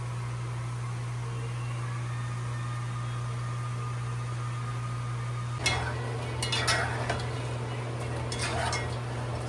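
Kurma sweets fry in hot oil with a steady background sizzle over a low hum, joined midway by clinking and stirring clatter as the pieces are moved around.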